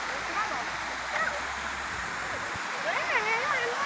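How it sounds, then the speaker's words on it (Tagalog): Water runs steadily through a man-made watercourse with a small waterfall in a South Korean park, a continuous near rushing stream under a man's speech. "It's like a man-made water course ito, siguro."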